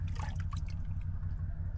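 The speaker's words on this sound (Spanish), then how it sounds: "acá tengo un balde con agua que calenté en la olla en el fuego y con esto voy" Heated water poured from a bucket over a person bathing outdoors in remote Patagonia, a short close splash and trickle over a low steady rumble, with no talk.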